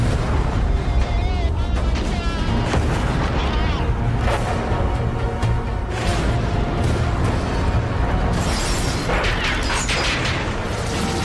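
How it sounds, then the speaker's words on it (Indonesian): Heavy, continuous booming of German anti-aircraft fire in World War II with repeated bursts and explosions, loud and dense throughout. "mereka langsung disambut dengan tembakan senjata anti pesawat Jerman"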